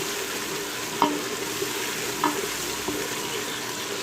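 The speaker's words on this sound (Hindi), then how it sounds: "अब हम इसमें लहसुन की 1 चम्मच शामिल कर देंगे और इसे अच्छी तरह भून लेंगे।" Garlic, onion and tomato fry in a pan with a steady sizzle, while a utensil taps and scrapes against it a few times during stirring.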